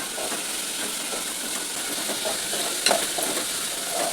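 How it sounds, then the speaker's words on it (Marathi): Curry leaves dropped into plenty of hot oil with chicken, giving a steady, close hiss and sizzle with faint crackles and one sharper pop, no talking. "आता याच्यामध्ये मी हा कढीपत्ता टाकते"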